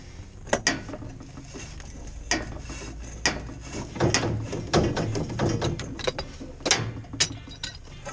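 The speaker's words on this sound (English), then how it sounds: "Give me that wrench." A wrench ratcheting on a leaking cast iron wye drain pipe, rapid clicking pawl strokes in uneven bursts with sharp metallic knocks, close and moderately loud, no talk over it.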